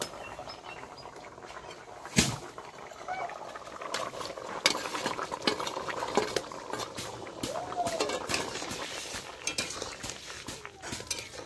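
Fish for a Bengali baim fish curry are tipped into a cooking pan and stirred, giving scraping utensil clatter, a sharp clank, and soft sizzling and bubbling under occasional talk.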